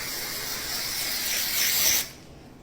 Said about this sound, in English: So I'm just going to get this and spray it, right?